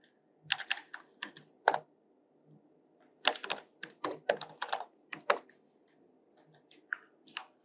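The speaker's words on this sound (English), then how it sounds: "So first we have to type inside this." Bursts of rapid keystrokes on a computer keyboard while text is entered in a UI design tool, clicking in quick irregular clusters with short pauses between, close and clear over a faint steady hum.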